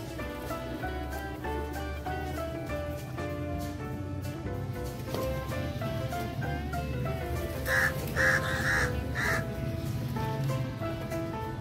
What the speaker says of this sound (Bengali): দেখেন পায়রার থেকে দেখেন কাক বেশি। এখন কাকও গম খায়।